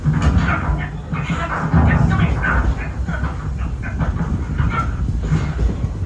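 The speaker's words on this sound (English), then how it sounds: "Oh, sweet Sarah, that's not a snake. It's a train." A train on the Walt Disney World Railroad at Magic Kingdom rumbles steadily along the rails with rhythmic clacking and a broad, continuous roar throughout.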